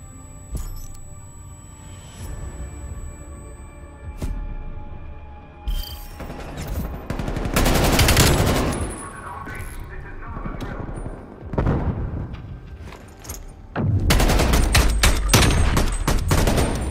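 Artillery fire in a military video game: distant booms and crackling volleys scattered through a noisy battlefield, building into a dense loud barrage near the end.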